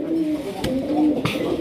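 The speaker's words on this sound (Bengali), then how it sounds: "এত সুন্দর কবুতর" A pigeon coos close by, soft low throaty notes repeating over about a second and a half, with a couple of sharper rustling clicks in between and no talking.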